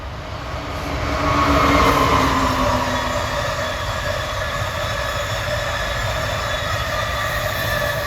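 Amtrak train 197 from New York to Washington passes steadily, its heavy rolling rumble building early and then holding with a faint metallic wheel squeal over the track noise.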